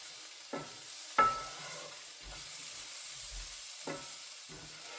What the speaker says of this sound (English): I just want to cook those mushrooms off for maybe about 3-4 minutes.